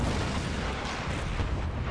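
Cannon fire in the Empire: Total War game, a dense continuous roar of overlapping low booms and rumbling blasts that fills the whole two seconds at high level, with no clear gaps between shots.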